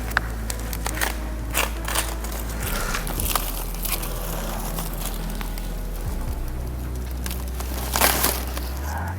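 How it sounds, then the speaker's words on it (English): Protective plastic packaging being cut and peeled off an electric fat bike frame, with crisp snips, crinkles and rustles close by over a low steady hum, a louder crackle near the end. "Now we'll do another interesting job, that is to unwrap all the frame part"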